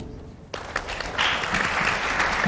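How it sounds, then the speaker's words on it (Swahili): An audience bursts into applause at a youth street forum on the Kenyan coast in Mombasa, the clapping swelling from scattered claps into a sustained, dense round that carries on to the end. "tuwapigie makofi"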